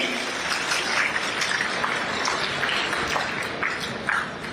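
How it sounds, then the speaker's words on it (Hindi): An audience at a national startup festival in Jammu applauds, with dense, continuous clapping from a sizeable crowd at moderate volume, holding steady throughout. "तालियां तो जोरदार करती हैं"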